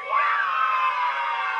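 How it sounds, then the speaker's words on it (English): Digitized children's cheer after a night is cleared in Five Nights at Powerpuff Girls, a bright, sustained crowd of young voices shouting and whooping together for under two seconds. "Yay, the kids are cheering."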